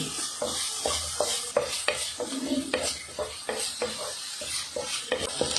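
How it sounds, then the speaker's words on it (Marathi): Chopped onion sautés in a pan while a spatula stirs it, giving repeated scraping strokes in an uneven rhythm over a soft, continuous sizzle, close and clear with no speech. "कांदा असा लाल होईपर्यंत परतायचा आहे व्यवस्थित."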